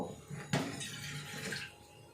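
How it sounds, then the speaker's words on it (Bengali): A little water is poured into mustard paste, a short close splash and trickle with a soft knock at the start, no voices. "এবার আমি এখানে অল্প জল দেব"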